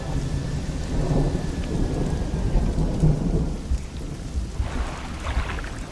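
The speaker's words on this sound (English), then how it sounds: "Oh, there's a bad storm coming." A thunderstorm in the fishing video game Dredge, with steady heavy rain and deep rolling thunder rumbling throughout, loud and close, with no voices.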